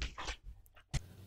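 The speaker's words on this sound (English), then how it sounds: "I apologize for my dog in this episode." A bloodhound whimpers and whines in short, faint bursts, with a sharper yelp near the end, close by and indoors with no talk.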